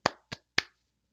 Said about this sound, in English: No, I'm clapping.